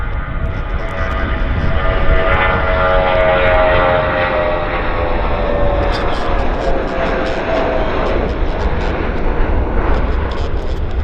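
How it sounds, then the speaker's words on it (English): A Dassault Falcon 50 tri-jet business jet at Vancouver Airport gives a loud, continuous engine roar and whine that holds steady through the whole stretch, with faint chatter in the background. "BizJet, Falcon 50. It's Falcon Day today."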